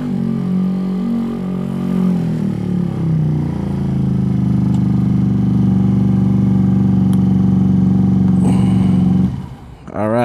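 Venom X18 motorcycle engine revving loudly and steadily on a test ride with clutch springs being tuned, a sustained drone that cuts off abruptly near the end with some clatter.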